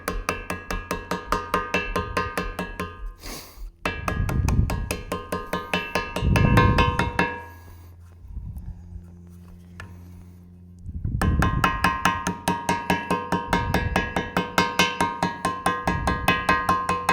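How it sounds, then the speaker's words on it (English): A small ball peen hammer taps rapidly on a gasket over bolt holes, delivering quick, evenly spaced metallic strikes in bursts, with a quieter pause midway and a few deeper thuds between runs. "Small ball peen hammer."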